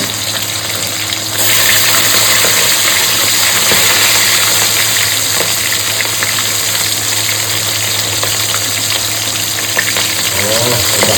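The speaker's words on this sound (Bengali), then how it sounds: "মাছগুলো ভাজা হচ্ছে।" Katla fish frying in hot mustard oil, a loud, steady, dense sizzle that keeps going without a break.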